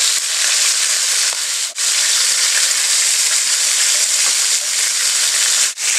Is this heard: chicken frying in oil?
yes